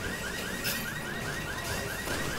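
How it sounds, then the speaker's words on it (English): An alarm tone from the video game Resident Evil 6 repeats in quick, evenly spaced sweeping chirps over a dense bed of game noise, fairly loud and with no talking. "This is like the shittiest, alarm sound effect ever."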